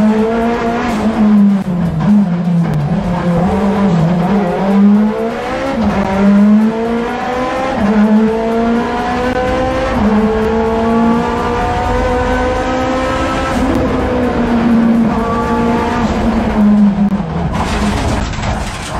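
Race car at the Cheile Grădiștei hill climb in 2019, engine loud and close, revving high and shifting through gears as it climbs and brakes, with rising and falling pitch over a continuous run.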